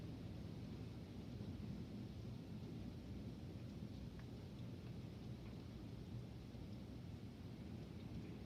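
Thunder from a morning lightning storm rumbles low and continuously amid steady rain, with no voices.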